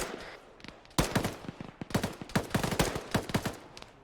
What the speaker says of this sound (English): I hear enemy gunfire over toward west